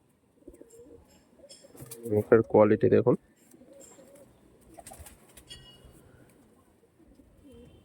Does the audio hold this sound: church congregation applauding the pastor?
no